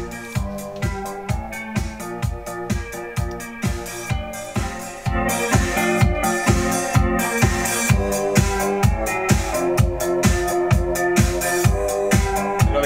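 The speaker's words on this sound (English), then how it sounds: "It's a very, very, very cheap Yamaha keyboard." A very cheap Yamaha keyboard, detuned slightly off pitch, plays over a drum track in a steady, bouncy rhythm. The mix grows fuller and louder about halfway through as extra percussion joins, with no voices.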